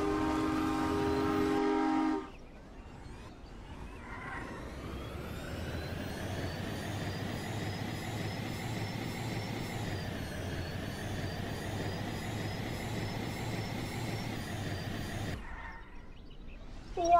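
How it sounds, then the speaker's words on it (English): Passing train rumbling steadily for most of the stretch, with a horn sounding near the start and a long, loud, continuous roar that fades away at the end. "Passing train."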